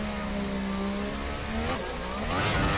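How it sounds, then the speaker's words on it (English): Turbo-hybrid era race car in Assetto Corsa held at raised revs on the start line, a loud sustained engine note that climbs and spikes toward the end. "we'll raise the revs here"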